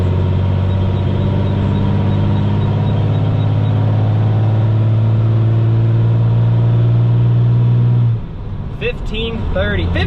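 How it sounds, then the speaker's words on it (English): A truck engine labours hard for a long haul, running hot with exhaust temperatures above 1,500 and coolant at 242. It gives a loud, steady, deep droning rumble with a strong low hum for about eight seconds, then a voice speaks as the drone drops away. "I love the sound of the truck"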